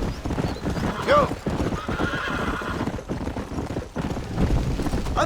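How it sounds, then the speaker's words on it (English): Horses galloping in Red Dead Redemption during a race, with rapid hoof clip-clop throughout and a sharp neigh, mixed with loud shouting voices and game sound effects. "I think you chose the wrong horse, Miss McFarland!"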